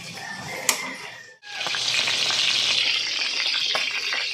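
A single piece of chicken drops into hot cooking oil with a brief hush, then a loud, steady sizzle and crackle continues close by, with no talking.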